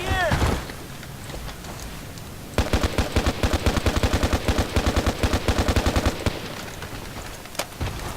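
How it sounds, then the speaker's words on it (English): Rifle fire from an L85A2/FAMAS in the video game Battlefield Play4Free, a long burst of rapid, evenly spaced shots lasting several seconds, loud and fairly close, followed by a single later shot. "Now let's try tap firing."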